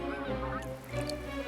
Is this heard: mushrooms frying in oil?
no